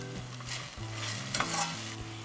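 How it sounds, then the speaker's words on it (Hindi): Chillies cooking in oil over a medium flame for Schezwan chutney, a continuous bubbling sizzle with occasional stirring, close and steady with no voices. "मिर्ची ऐड करने के बाद हमें फ्लेम को मीडियम ही रखना है और मिर्ची को कुक हो जाए तब तक पकाना है।"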